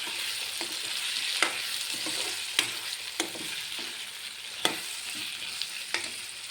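Potato pieces frying in a pan for a potato curry give a steady, close sizzle, broken by a few sharp clicks and taps scattered through it.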